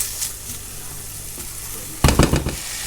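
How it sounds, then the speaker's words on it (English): Vegetables for a quiche dropped into a pan to lightly fry, a quiet background hiss that erupts into a brief burst of crackling sizzle near the end. "I'm just putting them in the pan now. So just lightly fry them."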